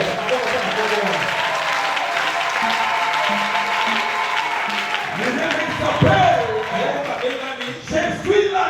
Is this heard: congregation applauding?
yes